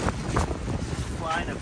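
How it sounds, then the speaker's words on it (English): Strong storm wind buffets a campsite in the Scottish Highlands, a steady loud roar with gusty rumbling against the microphone across the whole moment, and a voice faintly underneath. "Honestly, it's too windy."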